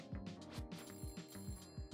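A telephone rings in the video game Cook Serve Delicious: a fast, repeating electronic bell trill pulsing steadily, fairly quiet and alone.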